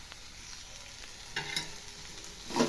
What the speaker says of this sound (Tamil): கேரட் சேர்த்துக்கிறது நல்லா கலந்து விட்டுருங்க